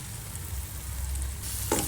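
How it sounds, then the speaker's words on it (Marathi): Masala of asafoetida, garam masala, salt and turmeric sautéed in a pan, a soft steady sizzle with a brief spatula scrape near the end, close and unvoiced. "मसाला चांगला परतून झाल्यावर"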